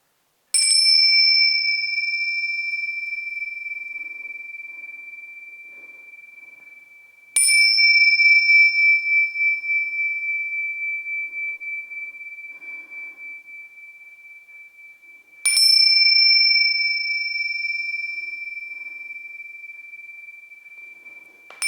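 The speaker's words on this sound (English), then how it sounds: "Begin the class with our Tingsha chimes." Tingsha chimes struck three times to open a yin yoga class, each bright, pure ring sustaining and slowly fading before the next strike, clear and alone in a quiet room.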